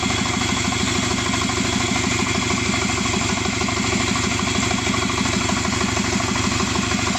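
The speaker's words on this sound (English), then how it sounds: "Now engine work nice and quiet." A Subaru Forester SG9 with an EJ255 turbo engine idles smoothly and evenly, a steady close rumble with a fine regular pulse and no revving throughout.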